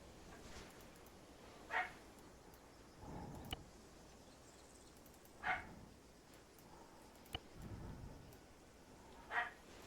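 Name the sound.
dog barking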